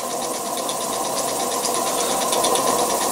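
A homemade vertical steam engine with a spool valve runs steadily, giving off a fast, even chuffing and mechanical clatter, close and continuous with no talk.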